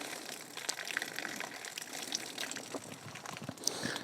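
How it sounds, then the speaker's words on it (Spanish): Water gushes steadily into a drip irrigation pipe as it is primed in a farm plot, a faint continuous rushing with small splashy bursts and no voices. "Es llenar de agua el tubo"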